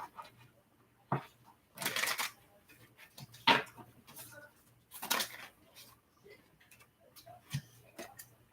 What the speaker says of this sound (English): All right, this will be our last shuffle.